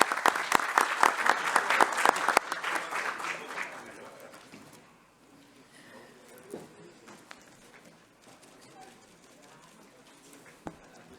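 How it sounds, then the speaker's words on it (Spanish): Applause in a senate chamber during an ordinary session, a loud burst of many hands clapping that fades out after about four seconds, leaving faint room noise and scattered small sounds. "Vamos a despedir con un fuerte aplauso a las alumnas"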